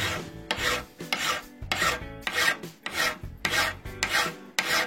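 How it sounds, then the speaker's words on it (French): Hand file rasping across metal for a homemade bicycle derailleur part: about nine steady, rhythmic strokes, each a loud close harsh scrape with short pauses between, no voices. "quand on lime, en fait, on enlève le feutre"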